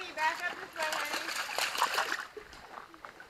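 A husky lies down and splashes in shallow water at a reservoir park, producing close sloshing and splatter over about three seconds, with a person talking throughout.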